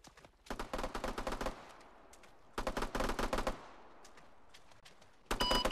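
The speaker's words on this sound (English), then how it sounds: "Sounds like shots from our north." In a military video game set in Kunduz, Afghanistan, bursts of rapid gunfire crackle from some distance, three volleys of automatic fire separated by short quiet gaps.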